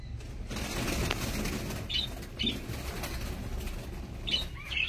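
Caged birds, pigeons among them, flapping their wings at a bird market in repeated close fluttering bursts, with faint chirps and general background bustle.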